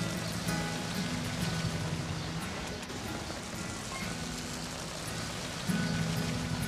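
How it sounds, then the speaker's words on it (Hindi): Steady rain falls and patters on surfaces outdoors, a constant hiss at moderate level, while a low tonal hum comes and goes beneath it. "बारिश को भी अभी आना था"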